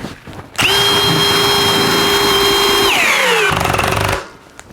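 A Milwaukee 2804-20 1/2-inch hammer drill in drilling mode whines at a steady high pitch for a couple of seconds, then its tone sags and winds down before cutting off.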